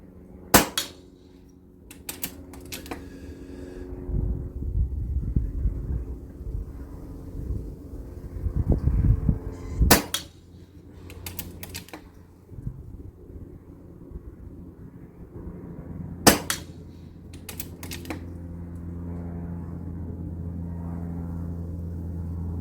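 An Air Arms S510 air rifle fires pellets outdoors, several sharp, sudden cracks spaced seconds apart over a low, continuous rumble of wind.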